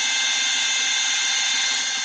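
A small power drill whines at a steady high pitch as it bores a hole in the fuselage of a Sig Kougar model airplane under restoration, the sound loud, close and unbroken throughout.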